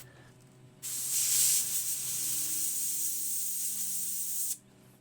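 An airbrush sprays paint in a steady, close hiss for several seconds while detailing an eagle artwork, starting and stopping abruptly against a quiet background hum.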